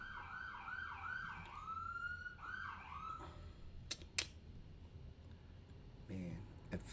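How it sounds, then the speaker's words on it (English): A wailing emergency siren cycles up and down repeatedly, then fades as traffic noise and a few sharp bangs take over. "you hear the sirens?"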